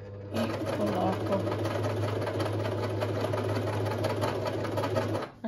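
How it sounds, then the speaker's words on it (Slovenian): Sewing machine gathering fabric for a shower cap sewn from an old shower cabin screen, a steady close mechanical whir running for about five seconds without a break. "velika da bi mašina nabirala sad"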